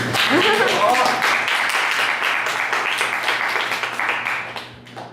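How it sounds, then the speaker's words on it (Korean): An audience at a year-end stage talk breaks into applause, a thick patter of clapping that starts over a brief spoken voice and fades out gradually toward the end. "박수 안 주시나요?"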